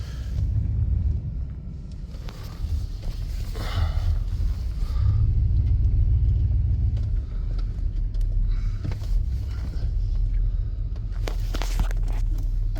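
A 1995 Chevy K1500 pickup with a 5.7 TBI engine idles roughly in drive, a deep uneven rumble that swells and sags, with footstep-like shuffles and a few faint knocks close by.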